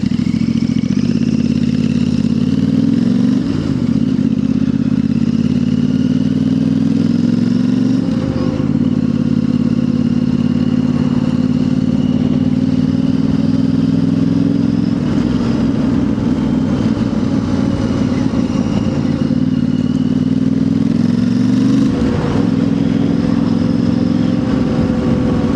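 A Royal Enfield Interceptor 650 with a new exhaust runs steadily, a loud, close, throbbing twin-cylinder note with several brief throttle blips over about twenty-five seconds.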